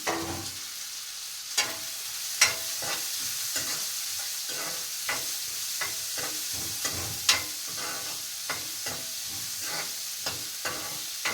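Ginger dropped into hot oil in a pan sizzles steadily, with a continuous frying hiss broken by frequent sharp pops and crackles throughout, close and clear with no talk.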